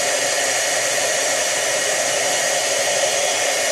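Heat tool blowing hot air to set embossing powder on a stamped card, a steady loud whooshing roar that runs unbroken throughout with no talking.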